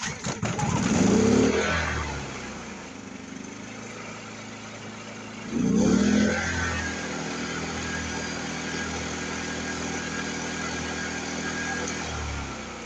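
A WEN 2350i portable inverter generator starts up, with two louder surges near the start and at about six seconds before settling into a steady, moderately loud running drone.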